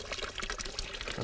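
Spring water is poured into a cup at Hamill Springs, a short, close, bubbling trickle with a faint gurgle that rises slightly toward the end, with no voices.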